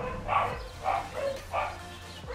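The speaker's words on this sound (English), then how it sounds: "Don't mind the dogs." Several dogs barking indoors in three loud, evenly spaced bursts of woofs and yips, each about half a second long, close to the listener with no talk over them.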